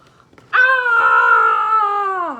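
A single long, wavering howl from a dingo swells suddenly and holds steady before sliding down at the end, sounding close and clear, given as a voice imitating the animal during a read-aloud of Wombat Stew.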